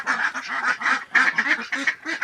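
Domestic ducks quack in a close, busy chorus, rapid overlapping calls running continuously for a couple of seconds with no pauses and no voices.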